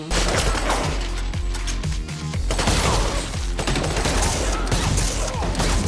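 Sustained gunfire from the action film John Wick, dense bursts of shots and automatic fire packed together, loud and continuous, with a brief lull partway through.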